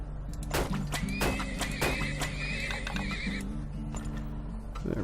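Horses in the video game Turmoil, several loud whinnies and neighs overlapping with clip-clop hooves over a low droning game soundtrack, close and continuous.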